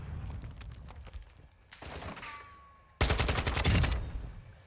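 Gunfire rattles in bursts in MW2 DMZ, then a loud grenade blast at about three seconds followed by a dense stretch of rapid shots and booms, all near and sharp.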